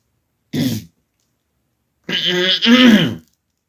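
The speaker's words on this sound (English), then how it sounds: "That's why I clear my throat in the way that I do." A short grunt, then after a pause a longer, gravelly throat clearing, loud and close, in an otherwise silent room.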